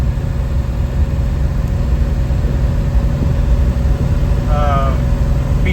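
Steady low rumble of a Big Block Chevy engine while driving, a continuous droning hum with no clear revs, heard from inside the car.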